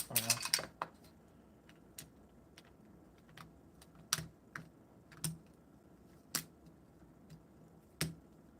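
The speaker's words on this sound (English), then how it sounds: "Let me just take the space bar out." Space bar keycap pulled from a custom mechanical keyboard with a keycap puller, heard as a few sharp plastic clicks and snaps spaced over several seconds, close and fairly quiet.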